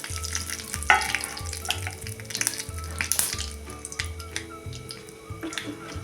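Curry leaves and turmeric hit hot oil for a Marathi tamarind-jaggery amti tempering, crackling and sizzling in sharp popping bursts over a low steady fry, with a lid clatter partway through.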